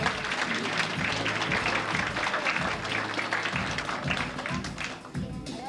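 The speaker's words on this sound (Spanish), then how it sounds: "Un aplauso para todos los que están participando." Audience applause at the Reina de Jutiapa pageant night, a dense, steady wash of many hands clapping that fills the whole stretch at full strength and eases slightly only near the end.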